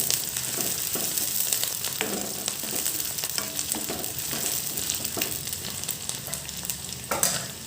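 Ginger, garlic, turmeric, salt, cumin and coriander fry in a pan with a steady close sizzle, punctuated by repeated spatula scrapes and stirring clicks.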